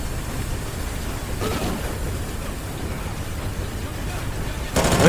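Gunfire in the first-person shooter Call of Duty: Ghosts sounds as muffled shots over a steady rumbling wash, with a louder, sharper burst right at the end and faint talking in the background.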